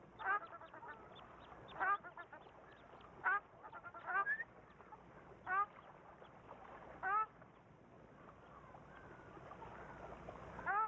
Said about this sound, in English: The ruddy shelduck has also managed to rear a family.